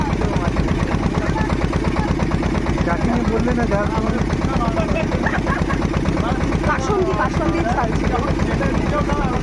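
A boat's engine chugs in a steady, pulsing drone on the ride back from a Kali temple, loud and close throughout, with voices talking over it.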